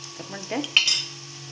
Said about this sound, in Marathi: इथे आपण आता लसूण चांगलं परतवून घेतो त्याला थोडंसं